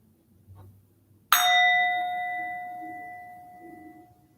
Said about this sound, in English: At the sound of the bell, your meditation is complete.